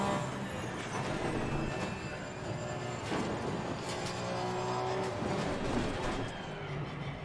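Porsche 911 GT3 R race car on worn tyres in Assetto Corsa Competizione, its engine a steady, droning whine with shifting pitch that is sustained and moderately loud throughout, with no talking.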